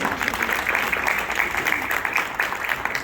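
An audience at a school event claps for newly named safety patrol members, a steady, close round of applause with busy, overlapping hand claps that holds throughout.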